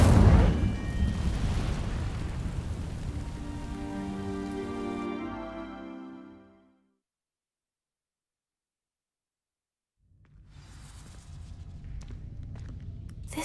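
Dry vines set ablaze by an Incendio fire spell in Hogwarts Legacy, a loud crackling, whooshing burst that flares, decays with a ringing magical tail into silence, then faint rustling returns.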